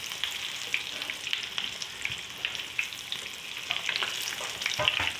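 Beef kebabs frying in a pan give a steady close sizzle with crackling oil pops and occasional scrapes as they are turned, with no talk.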